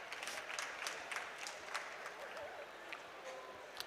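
Applause from the crowd at the COP27 Youthadapt Awards ceremony for a young Nigerian green-technology winner, a moderate continuous patter of many hands, a little distant and fairly even.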